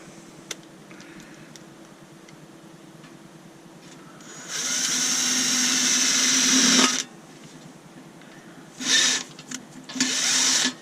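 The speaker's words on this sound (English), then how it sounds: "I thought I had reversed the drill" A power drill unscrewing a screw whirs in a couple of short bursts, first one sustained run of a few seconds, then quicker spurts near the end, over quiet room tone.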